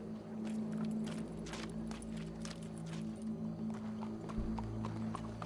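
Hooves clip-clop steadily over a low, continuous drone in Red Dead Redemption 2, a horse moving at a walking pace, moderately close and fairly quiet.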